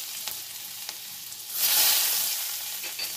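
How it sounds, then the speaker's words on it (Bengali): Chopped garlic frying in a kadai with tempering spices gives a continuous bright sizzle that swells louder midway and then settles, close and alone with no talk. "রসুন কুচিটা একটু ভাজা ভাজা করে"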